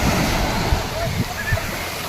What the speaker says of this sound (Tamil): கடல் ரொம்ப அமைதியாகவும் சூப்பராகவும் இருக்குது